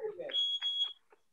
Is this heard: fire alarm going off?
yes